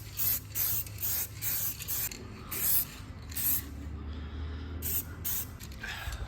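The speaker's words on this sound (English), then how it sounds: "Going to hit this with a little bit of guide coat now" Matte black guide coat paint sprayed onto an accident-damaged Audi S3 body panel in repeated short hissing bursts, close up, with a steady low hum underneath.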